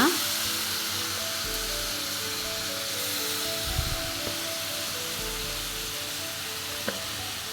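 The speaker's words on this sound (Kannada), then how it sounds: "ಸ್ವಲ್ಪ ಹೊತ್ತು ತುಪ್ಪದಲ್ಲೇ ಇದನ್ನು ಫ್ರೈ ಮಾಡ್ಕೊಳ್ಳೋಣ" Grated carrot frying in ghee in a pan, a steady soft sizzle with occasional stirring scrapes throughout, faint voice in the background.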